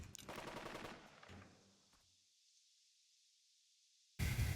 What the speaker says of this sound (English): God damn, that machine gun is brutal.